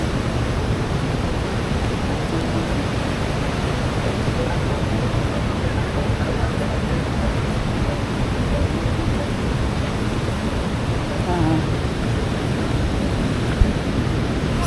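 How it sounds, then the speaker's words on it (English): Busowoko Falls in Jinja, Uganda: a continuous dense roar of cascading water, loud and unbroken from start to finish. "This is one of the visited waterfalls here in Jinja"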